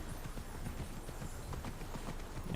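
Horse hooves clip-clop in the video game Immortals Fenyx Rising, a steady, even rhythm of hoofbeats over a dense game soundscape, close and continuous throughout.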